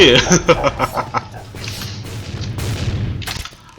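Explosion effect in the Point Blank video game followed by a cackling laughter sound effect, with bursts of gunfire and booms in rapid succession and a person talking over the action.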